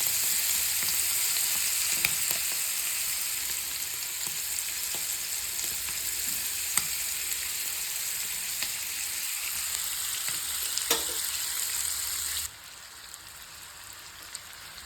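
Squid masala frying in a pan over low flame, a continuous dense sizzle with occasional crackles and stirring clicks, dropping abruptly to a quieter hiss near the end.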